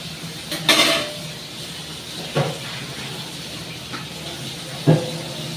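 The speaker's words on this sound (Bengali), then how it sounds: "কড়াইটা আমি ধুয়ে নিই।" A wok being washed, with a few separate clatters of metal cookware spaced several seconds apart over a steady background hiss, with no talk.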